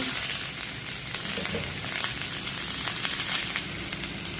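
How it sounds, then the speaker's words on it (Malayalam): Onions frying in hot coconut oil with mustard seeds and curry leaves for an egg roast: an even, close sizzle with fine crackling and soft stirring scrapes throughout. No voices. "അതിനുശേഷം നമ്മൾ സവാള ഇടുവാണ്"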